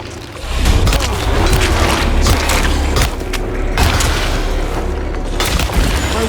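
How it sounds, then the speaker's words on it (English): Weapon breaking in the Alone in the Dark video game, a loud sustained booming, grinding crunch that fills the whole clip with dense low rumble and no voices over it. "My weapon broke!"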